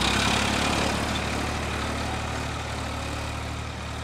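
A farm tractor engine runs at a steady idle, a loud, even low rumble with a constant throb that holds throughout without people talking.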